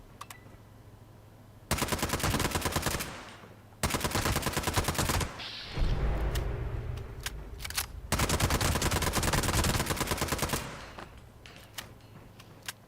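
Repeated bursts of automatic gunfire in Fallout 76 as a player shoots a ghoul, several long loud volleys separated by short pauses and quieter single shots, with impact and game effects between bursts.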